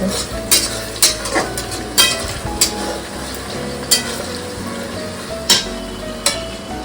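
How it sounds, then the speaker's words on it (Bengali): Mutton being stir-fried (kosha) in a pot for biryani, with chicken cooking alongside: a steady sizzle and fry broken by sharp metallic clinks of a spoon against the pan every second or so. "এখন মাটনটা কষা হচ্ছে আর এখানটা চিকেনটা হচ্ছে"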